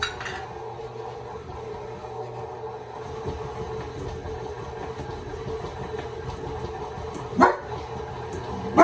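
A dog barks in a kitchen where a stand mixer mixing thumbprint cookie dough bangs and rattles; the mixer's steady churning runs throughout, with a loud clunk near the end.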